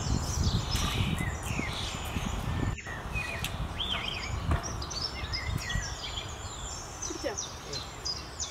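Many birds chirp and twitter from a tree outdoors, a steady layer of high calls over low background rumble and some rustling, fairly faint and continuous throughout.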